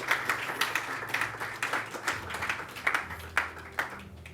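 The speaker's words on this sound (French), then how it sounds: "Le public va vous applaudir bien fort." An audience applauds at a paranormal evening show with a psychic and mentalist performer, giving steady, fairly close clapping with scattered sharper claps. Music plays underneath.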